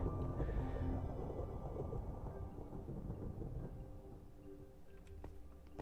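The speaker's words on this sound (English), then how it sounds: "Thundering." Low rolling thunder rumbles in a Minecraft world, a long soft roar that swells early and slowly fades, heard faintly and alone with no talk.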